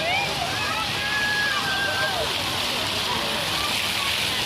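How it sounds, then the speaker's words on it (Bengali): Water fountains splash and pour down steadily in an outdoor garden with rose plants, a close, continuous rushing wash with no breaks. "একদিকে সব ফোয়ারা হচ্ছে,"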